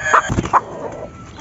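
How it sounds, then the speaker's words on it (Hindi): Hens clucking in short, sharp calls while being moved into a new colony cage, two or three quick close squawks and then quieter rustling. "दोस्तों, तीसरी मुर्गी मैंने पकड़ ली है"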